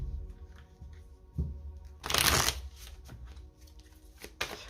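A deck of tarot cards being shuffled up close, with a loud riffling burst in the middle and softer card taps and slides around it, no speech.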